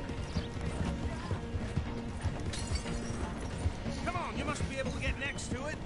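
Horse hooves clopping in Red Dead Redemption 2, a rapid galloping rhythm under game music and ambient noise, with a horse whinny mixed in.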